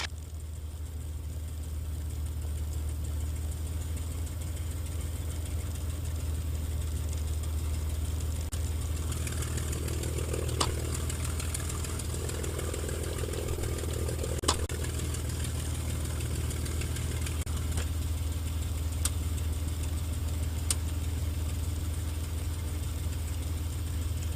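A TF-51 aircraft engine idling on the ground, a steady deep rumbling drone with a few faint clicks and knocks on top, continuous and fairly close throughout.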